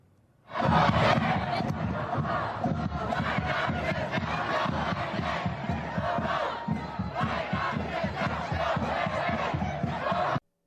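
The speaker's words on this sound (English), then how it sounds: "The crowd is chanting, "Hey, hey, ho, ho, Bidenomics has got to go."" A large political rally crowd for President Biden in Pennsylvania chants a rhythmic protest slogan in unison, loud and sustained with crowd roar throughout, starting abruptly and cutting off at the end.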